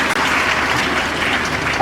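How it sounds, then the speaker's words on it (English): Audience applause at a university graduation congregation, a steady wash of clapping from a large crowd, loud and continuous throughout. "Let's clap for these young people"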